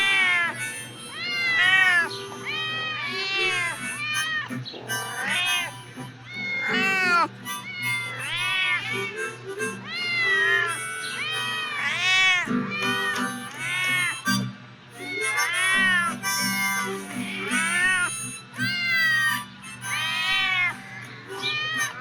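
Several cats meow and caterwaul continuously, overlapping high, drawn-out cries repeating loudly and close throughout, with a steady low hum underneath.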